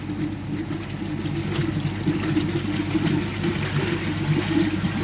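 A homemade static bed koi pond filter refills with water, a steady close rushing trickle and churn running continuously for several seconds.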